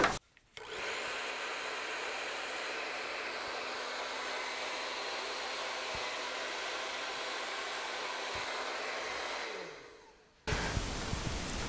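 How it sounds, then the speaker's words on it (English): A hair dryer runs with a steady, loud whooshing roar for several seconds, then winds down and switches off. "I'm gonna try my blow dryer just for the heck of it."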